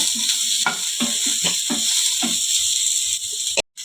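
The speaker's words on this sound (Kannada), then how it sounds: "ತುಂಬ ಸ್ವಲ್ಪ ಸಾಫ್ಟ್ ಆದರೆ ಸಾಕು ಟೊಮೊಟೊ ತುಂಬ ಏನು ಫ್ರೈ ಮಾಡೋದೇನು ಬೇಡ" Tomatoes softening in a hot pan give a steady hiss of sizzling, with repeated scraping stirs in a loose rhythm close by, ending in a brief cut to silence.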